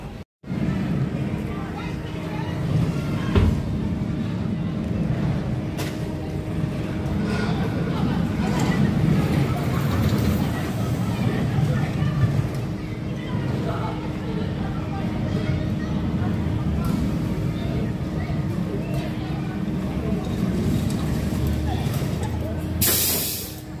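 Rushing wind and rumbling roar of the Rage roller coaster ridden from the back row at Adventure Island, Southend, a steady loud blast of air and track noise throughout with faint voices underneath.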